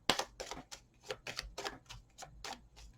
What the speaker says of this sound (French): je prends mes cartes